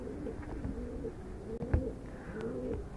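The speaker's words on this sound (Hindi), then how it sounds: "जो कबूतर अभी मैं आपको दिखाऊं" Pigeons coo softly and repeatedly at a rooftop loft during a pigeon-flying tournament, a low steady murmur of calls continuing throughout.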